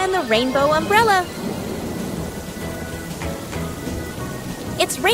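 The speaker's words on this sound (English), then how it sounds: "It's raining, and Peppa spots her rainbow umbrella." Steady rain with a low rumble of thunder, while an animated voice sings and speaks over it at the start and near the end.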